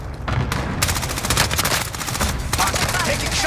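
Rapid automatic gunfire in Call of Duty: Modern Warfare rattles loud and close in dense continuous bursts, with sharp cracks layered over a low rumble for the whole stretch.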